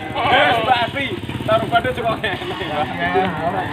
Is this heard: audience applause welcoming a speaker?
no